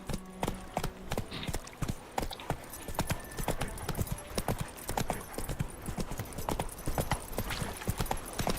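Rapid, steady clip-clop of a galloping horse's hooves in The Witcher 3, a dense rhythmic patter sustained throughout at close range.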